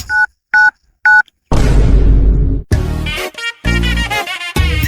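Three short electronic telephone keypad beeps sound in quick succession, followed by a loud boom and other noises.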